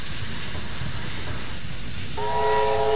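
A QJ coal-fired steam locomotive rumbles and hisses steadily nearby, with a loud chime-like whistle sounding near the end.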